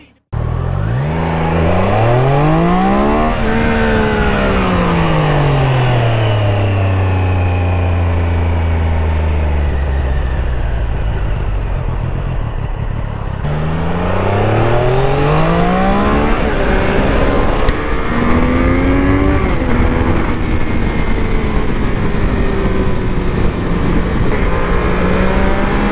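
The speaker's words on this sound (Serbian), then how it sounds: "motor ubrzava od 3000 obrtaja" A 2024 Triumph Daytona 660 motorcycle engine revs up loud and close while riding, climbing through the gears in rising sweeps, dropping at each shift and pulling hard again, with continuous wind and road roar underneath.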